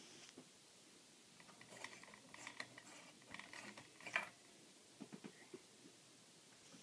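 Light bulbs unscrewed from a ceiling fan light fixture, giving faint, close squeaky scrapes and small glassy clicks in short irregular bursts over near silence.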